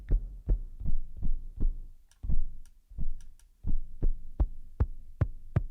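A deep, thudding drum hit repeats steadily at a moderate tempo, each one short and boomy with a low pitch, alone without any voices.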